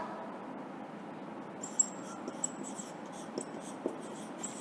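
Pen scratching on paper as an answer is written by hand, a faint series of short strokes and ticks over a quiet room hum, with no talk.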